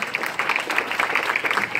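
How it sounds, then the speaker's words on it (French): Audience at a hypnosis show claps for a volunteer named Pascal, a brief burst of dense, fairly close applause that stays steady across the short moment with no talk over it. "on applaudit Pascal"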